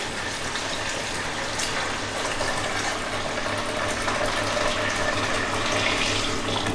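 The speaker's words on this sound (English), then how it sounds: "I'm going to pour it through my filter." Beer wort pours steadily through a filter in a continuous gushing stream, close and fairly loud, like a large volume running through into a vessel.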